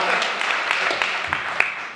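Audience applause at a public conference hall, a dense crackle of many hands clapping steadily for two seconds, fairly close, with a few louder individual claps standing out.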